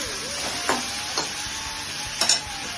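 Ginger garlic paste fries and sizzles in a pan with a steady hiss, and a few sharp scraping stirs come through near the start and again toward the end.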